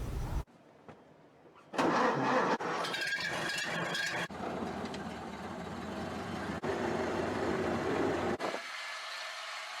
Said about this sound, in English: it runs and drives like a stock Model A